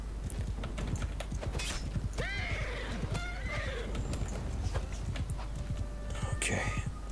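Horses of heavy horse archers in Mount & Blade II: Bannerlord neigh and whinny loudly in the middle of a battle, with hooves clip-clopping steadily underneath and a voice talking over the noise.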